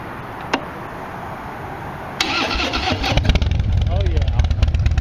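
A 2016 Harley-Davidson Dyna with Vance & Hines Super Radius pipes cranks and fires up after a quiet start, settling into a loud, lumpy idle with sharp exhaust pops, close to the mic.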